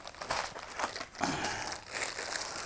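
A plastic bag crinkles up close as a keyboard controller is unpacked, giving dense, continuous crackling with bursts of louder rustling and no talk.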